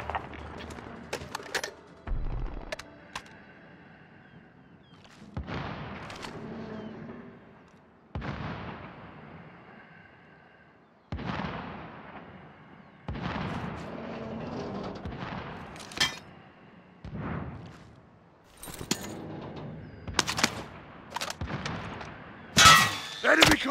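Gunfire erupts in Call of Duty: Modern Warfare in scattered loud bursts and single sharp shots, separated by quieter gaps, with some voices heard in between.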